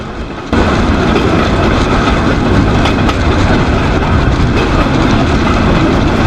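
Rail bike rolling along railway tracks in Las Vegas, Nevada, a loud continuous rumble with rattling clickety-clack from the rails, steady throughout after a brief quieter start, no talking.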